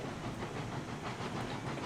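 Steady rumble and hiss of a long train rolling in reverse in RailRoads Online, with a faint repeating clatter of wheels over rail joints and no voices, continuous throughout.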